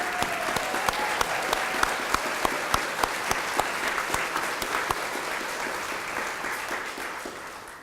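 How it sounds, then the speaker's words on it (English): A crowd at an outstanding colleague awards ceremony claps for honored coworkers, a full, sustained round of applause with sharp individual claps early on that gradually thins toward the end. "One big round of applause for all of our outstanding colleagues."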